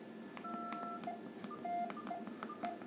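Alcatel 2000 mobile phone beeping as its keypad lock is engaged, a run of short electronic tones and clicks, close and fairly quiet, with no talk over them.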